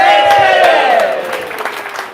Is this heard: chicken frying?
no